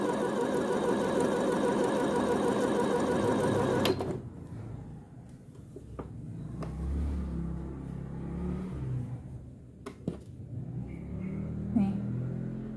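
A sewing machine stitches bias binding onto a round blouse neckline, giving a steady, fairly loud whirring hum for about four seconds before stopping abruptly, followed by quieter handling noises.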